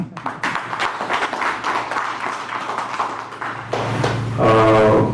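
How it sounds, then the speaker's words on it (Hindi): Audience applause at a gathering with revered saints at a Russian cultural centre, broad steady clapping building to a louder swell near the end, with a low hum beneath. "आपके लिए तालियां हो जाए"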